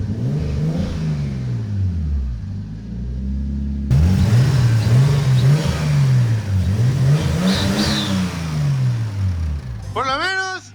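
Nissan Skyline R32 engine being revved after repair, rising and falling in repeated sweeping surges with a deep rumbling note, close and loud, while voices talk over it.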